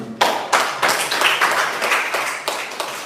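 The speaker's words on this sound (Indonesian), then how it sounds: "Kasih tepuk tangan dulu untuk semua." An audience claps and applauds together at an Islamic boarding school speech event, a dense burst of hand claps starting sharply and holding steady for several seconds before tapering, with no voices over it.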